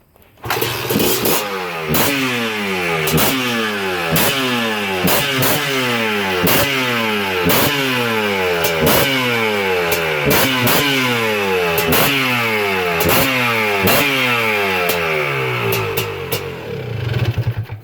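Honda ATC three-wheeler engine starts and revs repeatedly, loud and close, in a steady rhythm of rising blips over a rough idle, with no talk.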